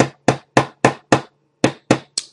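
Eight sharp metallic taps from a metal-ended hammer striking a watch band pin, delivered in a steady rhythm with a brief pause before the last three, loud and close with no talk.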